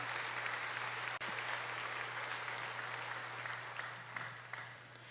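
A church congregation at a Friday night vigil applauds with sustained, dense clapping that fills the room evenly from start to finish, with a low steady hum underneath and no voices.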